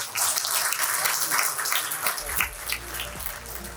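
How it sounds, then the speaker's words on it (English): Applause greets a keynote speaker on making India a research powerhouse, a broad steady patter of many hands that carries on without a break at moderate loudness, with a low hum joining partway through. "Ladies and gents, round of applause, please."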